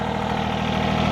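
John Deere 855 compact tractor engine idling nearby, a steady low rumbling drone with even vibration and no change in speed.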